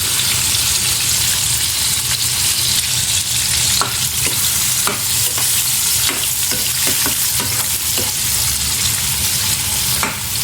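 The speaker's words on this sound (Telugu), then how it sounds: "రొయ్యలు వేసేటప్పుడు ఆయిల్ మీదకి వస్తుంది" Prawns fry in hot oil in a pan with a loud, continuous sizzle, sharp crackles and pops breaking through it at irregular moments, close and without talk.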